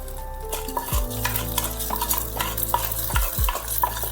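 Hot ghee tempering for yogurt chia oats sizzles in a pan, with repeated metal utensil scrapes and clinks against the pan over a steady crackle, near and without talk.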